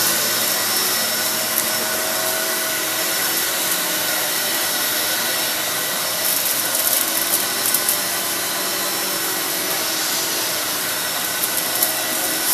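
A Kenmore 600 series bagless vacuum cleaner runs continuously with a loud, steady whine and airy rush, punctuated by faint ticks of debris being sucked up, with no talking.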